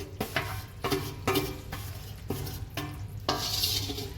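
Edible gum (gond) being stirred into plenty of hot ghee in a pan while making gund pak, with a steady sizzle and rhythmic scraping stir strokes repeating every half second or so, close up with no voices.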